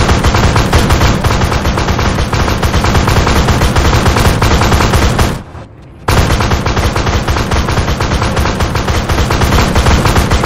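Rapid automatic gunfire in an Australian military shooter game, dense continuous bursts that pause for about half a second, then resume just as loud and close, with no one speaking.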